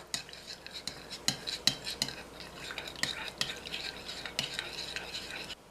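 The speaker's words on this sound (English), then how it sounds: "Now I'm going to be mixing my yeast to the warm milk. Give it a little stir." Yeast stirred into warm milk with a spoon, giving quiet, quick clinks and scrapes against the container, close by and fairly faint, with no talking.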